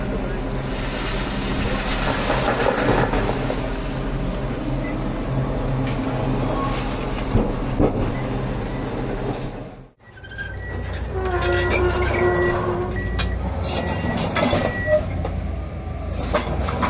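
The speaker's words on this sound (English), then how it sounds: "clean sound of metal and diesel" A diesel train rumbles close by with heavy metallic clatter and engine drone, a brief dip in the noise midway before the rumbling continues.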